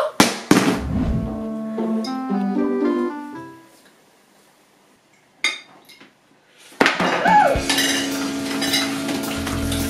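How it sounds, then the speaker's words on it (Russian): Dishes are washed by hand in a kitchen: sharp clinks of cutlery and clattering pots come in quick bursts, then a pause and another run of clanging, close and loud, with no talking. "Посуду мой."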